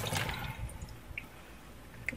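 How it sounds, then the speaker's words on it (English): Soaked cashews and their water pour into a strainer in a loud splashing gush that tapers into trickling and scattered drips, with no talk. "I'm going to take them and I'm going to dump them into a strainer"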